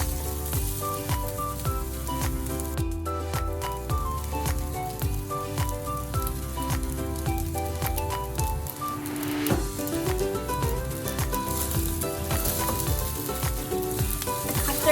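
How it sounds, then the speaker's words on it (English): Rice frying in a pan and being stirred, a steady sizzle running unbroken throughout, though dense tonal layers over the sizzle suggest background music along with it. "Mix until the rice is fried."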